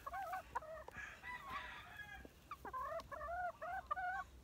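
Two young pullets with straight combs cluck in short, wavering bursts on a poultry farm, the calls coming close and fairly loud in clustered sequences with brief pauses, no voices over them.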